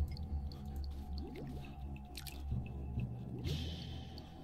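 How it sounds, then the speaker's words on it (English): A bubbling tar pit in the Edna & Harvey point-and-click game gives off soft, wet gurgles and squishy drips in an irregular rhythm, low and close, over a faint steady ambient hum. "The tar pit was bubbling invitingly."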